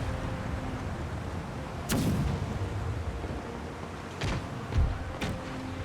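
Ship cannons firing in Empire: Total War, a few sharp booms spread across the stretch, one near the start and a quicker cluster toward the end, over a steady low rumble of battle ambience, with no talking.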